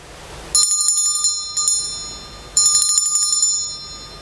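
Bright metallic bell strikes in a kindergarten school play about the call to prayer, two clear clusters of ringing with sustained high tones that decay slowly, loud and close with no talk.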